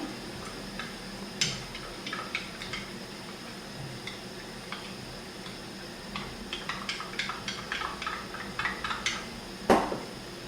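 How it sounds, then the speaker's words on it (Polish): A spoon stirs cherry kisiel with cold water in a bowl, making light scattered clinks and taps against the dish, with a busier run of quick clicks near the end over a quiet kitchen background. "Najpierw go mieszam z zimną wodą."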